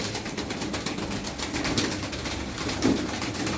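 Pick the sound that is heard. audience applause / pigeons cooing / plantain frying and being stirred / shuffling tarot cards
pigeons cooing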